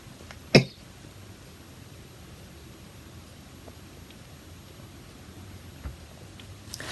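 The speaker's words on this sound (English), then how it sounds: "Now I'm going to cough." A single sharp cough bursts out near the start, then the room falls quiet apart from faint background hiss and a soft knock near the end.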